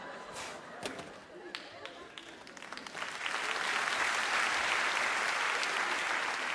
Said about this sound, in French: J'aime bien quand vous applaudissez